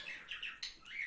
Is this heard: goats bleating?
no